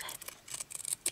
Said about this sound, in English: Love sharp scissors.